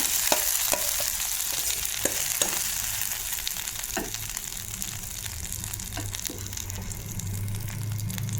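Curry leaves fry in oil while making peanut chutney: a steady, fairly loud sizzle with scattered crackles and pops throughout, and no talk.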